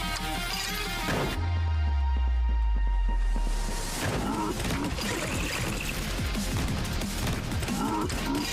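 Rapid Uzi gunfire in the boomer shooter Blood High!, a dense, sustained burst of shots mixed with game effects and music, continuing loud throughout with a few low booms early on.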